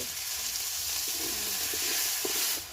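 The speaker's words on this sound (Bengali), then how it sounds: "হাফ চামচ গুঁড়ো লঙ্কা অল্প একটু হলুদ গুঁড়ো অল্প জল দিয়ে মশলাটাকে ভালো করে কষিয়ে নেব" A spice paste of chili powder, turmeric and a little water fries in a pan, giving a steady, soft hiss with faint scraping stirs and a few small pops.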